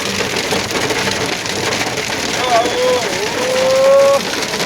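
Heavy rain and hail pour down around a car in a dense, loud, steady patter close by, while a voice speaks briefly underneath toward the end.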